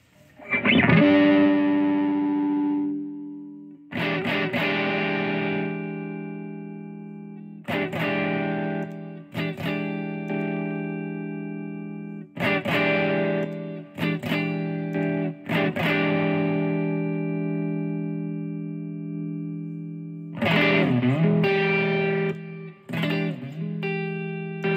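Electric guitar through a vintage Proco RAT distortion pedal, either the 1979 Large Box or the 1984 Small Box, hitting sustained driven chords that ring out and are repeated with short gaps between them, loud and close.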